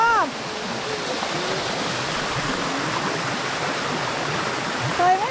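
Saladai waterfall in a forest valley, a steady broadband rush of falling water, close and continuous, with birds calling at the start and end.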